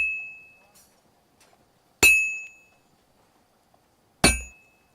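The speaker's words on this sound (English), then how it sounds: "I'm sitting here wasting my time making a horseshoe." Two loud, ringing metallic clangs of a hammer striking a horseshoe on an anvil at a forge in Kingdom Come Deliverance II, each blow sharp and followed by a decaying ring, spaced about two seconds apart with near silence between.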